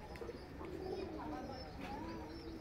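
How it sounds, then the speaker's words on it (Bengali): Market-bought pigeons kept in a cage in a mango tree at a village home give faint, soft coos. A few rising calls sit over quiet background ambience. "এই পিঞ্জরির মধ্যে আমরা এই যে কবুতর বাহির থেকে মানে বাজার থেকে কিনে নিয়ে আসে, এটা পালছিলাম।"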